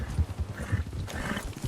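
Horse hooves clip-clopping at a riding pace in a video game, a quick, even run of muffled thuds, close and clear, with no talking.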